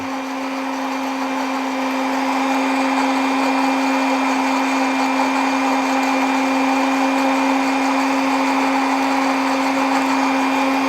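A blender whirs steadily while blending garlic with grapes and honey, a constant loud motor drone with a strong steady hum that holds unchanged from start to finish, with no voices.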